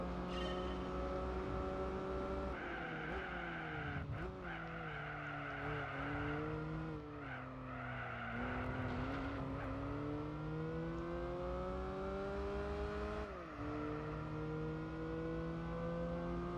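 A Nissan Skyline R34 in Gran Turismo 4 sustains a steady, droning engine note that dips and climbs with shifts and cornering, plus a squeal of tires, continuous and fairly quiet.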